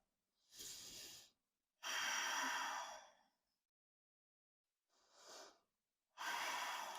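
Deep breathing during a vinyasa yoga pose: four slow, close breaths alternating inhale and exhale, each a soft airy rush separated by silence, with no talking.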